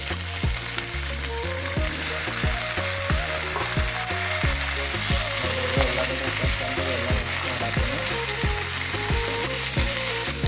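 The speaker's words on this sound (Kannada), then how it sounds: "ಕರಿಬೇವು ಹಾಕೊಂಡೆಲ್ಲ ಫ್ರೈ ಮಾಡ್ಕೊಂಡು ಈಗ ಉಳ್ಳಾಗಡ್ಡಿ ಹಾಕೋರಿ" Onions and curry leaves fry in hot oil in a pan, a loud continuous sizzle with regular stirring strokes pulsing through it, close and steady, with no talking.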